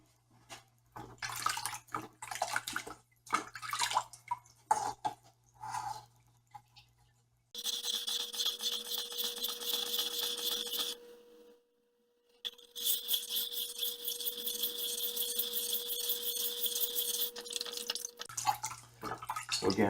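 A German Othello chef's knife is worked on a wet water stone, with long, even scraping strokes in two sustained passes after a stretch of scattered drips and handling noises, fairly close and without talking.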